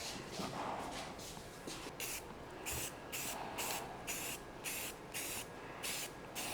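Aerosol paint sprayed in repeated short bursts onto a neglected 39-year-old car finish, a close rhythmic hiss pulsing on and off about once a second with faint shuffling between bursts.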